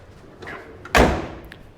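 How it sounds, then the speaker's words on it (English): The door of a hardtop-only 1957 Ford Thunderbird swings shut with a single solid slam and a deep thud near the middle, close and loud, then a short fading ring. "The door closure is very nice, very solid."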